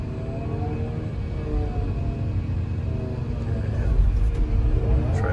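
Swing motors running on a 2018 Caterpillar 336FL excavator, a close, steady low diesel rumble with a whining hydraulic tone that rises and swells toward the end.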